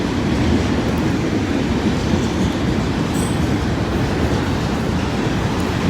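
A Conrail freight train rumbles past close by in a loud, continuous roar of rolling wheels and rail noise that holds steady throughout, with faint wheel squeal and no voices.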